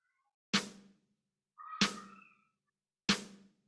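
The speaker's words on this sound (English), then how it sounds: "With this I have layered bluebird snare," An Atlanta snare sample layered with a Bluebird snare sample in Logic Pro X, struck three times with even spacing, each hit a bright, full crack with a slightly longer ringing tail, heard alone.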